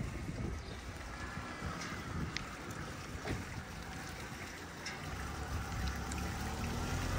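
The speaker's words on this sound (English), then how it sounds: "just to show you this very steampunk water feature" A steampunk-style water feature in a small town square by a river and bandstand runs continuously, a soft, even wash of splashing water with breezy noise, heard alone at low volume.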